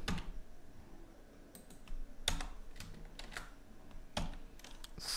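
Keys clack on a computer keyboard as HTML code is typed: quiet, irregular single clicks and short runs of taps, close up, with no talk over them.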